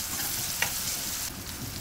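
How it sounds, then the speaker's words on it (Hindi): Onions sizzle and crackle in hot oil for a dal tempering, a steady close frying hiss with a brief sharper pop. "उसी में मैं ये प्याज डाल रही हूँ। प्याज को अपन थोड़ी देर फ्राई होने देंगे।"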